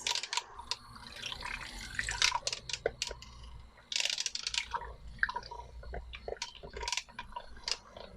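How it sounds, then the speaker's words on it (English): Micellar gel hand wash is stirred and mixed, giving wet, sticky squelching and dripping sounds in irregular bursts, close and moderately loud, with no talking. "So we're just gonna try to mix this without getting too many bubbles in there."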